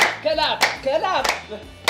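A few sharp hand claps at a school gathering, spaced roughly every half second to second, near and loud, interleaved with someone singing or chanting between them.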